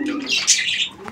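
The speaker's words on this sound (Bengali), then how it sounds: "কবুতর দেখেন, কবুতর দেখেন, অ্যাক্টিভিটি দেখেন।" A racer pigeon pair at a breeder's farm gives soft coos and chirps, close and short, with no talking.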